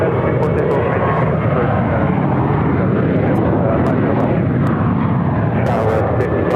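A heavy jet rolls for takeoff on runway 7 left at Phoenix, a loud, dense, steady engine roar filling the whole stretch, with radio chatter and voices over it.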